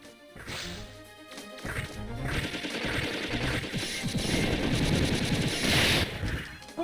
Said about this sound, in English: This is where I use my machine gun to great effect.